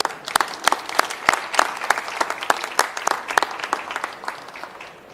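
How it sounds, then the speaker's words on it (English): An audience at a COP26 climate panel event breaks into applause, a dense stretch of sharp claps from a mid-sized crowd, loud and steady, with no talking over it. "I think these guys deserve another round of applause"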